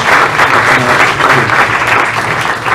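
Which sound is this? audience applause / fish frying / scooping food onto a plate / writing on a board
audience applause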